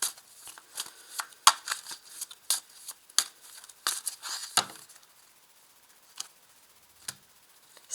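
A deck of 32 playing cards being shuffled up close, with a dense run of crisp riffling bursts for about five seconds, then a few isolated soft card snaps in near silence.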